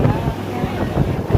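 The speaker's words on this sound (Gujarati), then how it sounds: "પંખો છે, ફૂલ પવન આવે." Strong air blowing from a fan at a gurukul on Surat's Ved Road, a loud, constant rumbling whoosh buffeting the microphone throughout, with faint speech mixed into the roar.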